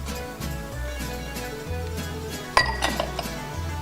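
A spoon stirs cauliflower stew with olives and raisins in a pot, giving a scraping, clinking rhythm of metal against the pot with one sharper clank partway through.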